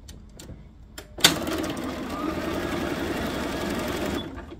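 A sewing machine stitches quilt block fabric pieces, starting with a sharp click and then running as a steady close whir for about three seconds before stopping.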